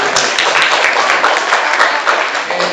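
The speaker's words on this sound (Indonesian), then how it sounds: "beri tepuk tangan dulu untuk kelompok" Classmates clap for a student group after its presentation in a classroom, a steady, dense patter of many hands lasting the whole stretch at close range.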